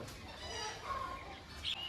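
A 16-month-old rooster of about 4.5 kg clucks a few short times close by, brief throaty calls over background noise.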